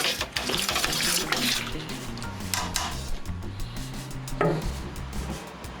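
Wort flows out of a Grainfather G2G during a homebrew transfer, a continuous splashing, gurgling rush of liquid heard close and fairly loud throughout.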